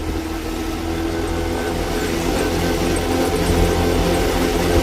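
A Grom clone motorcycle engine running steadily while being ridden, a continuous droning hum with road and wind noise, fairly loud and unbroken, no talking.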